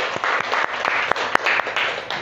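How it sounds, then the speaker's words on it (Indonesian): A classroom group claps steadily for a couple of seconds, a dense patter of hands with a few sharper individual claps standing out. "beri tepuk tangan untuk kelompok 1"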